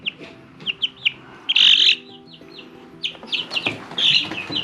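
Small Mille Fleur bantam chickens cluck and chirp nearby in short, irregular bursts, with a few louder squawks standing out over a quiet background.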